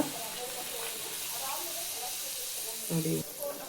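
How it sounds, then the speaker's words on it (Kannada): Puri frying in hot oil gives a steady, close, crackling sizzle throughout, with a brief voice rising over it near the end. "ಈಗ ಒಂದೊಂದೇ ಪೂರಿನ ಎಣ್ಣೆಗೆ ಹಾಕ್ಕೊಂಡು ಬೇಯಿಸ್ಕೊಳ್ಳೋಣ"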